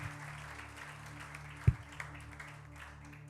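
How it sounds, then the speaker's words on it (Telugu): A congregation at a Telugu church service claps together in a faint, steady patter, with a low hum running underneath and one sharp thump partway through. "అందరు చప్పట్లు కొట్టి ప్రభు నామమున కనపడదాం"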